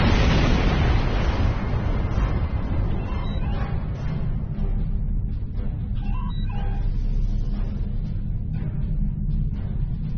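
Starship weapons fire and explosions from Klingon ships in a space battle, a heavy booming blast at the start followed by continuous rumbling and scattered bursts and electronic tones.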